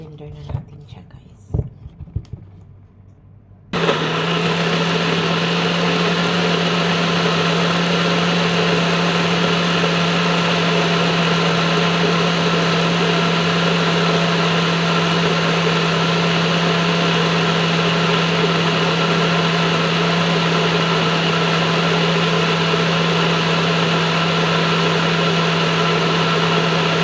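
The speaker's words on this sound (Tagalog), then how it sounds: "blender na natin siya guys." A blender blending an avocado, banana and apple smoothie made with water; after brief handling noises and a voice, the motor kicks in with a loud, steady, droning whir that runs unchanged for over twenty seconds.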